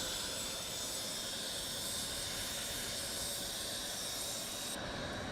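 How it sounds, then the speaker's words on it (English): BAE Hawk T1 jet trainer engine starting up in the X-Plane 11 flight simulator, a steady broadband turbine whine and rush with high tonal hums, loud and constant throughout. "there starts the engine"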